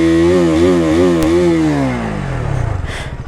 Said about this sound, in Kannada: ಈಗ ಬನ್ನಿ ಎಕ್ಸಾಸ್ಟ್ ನೋಟ್ ಕೇಳಿಸ್ತಾ ಹೋಗೋಣ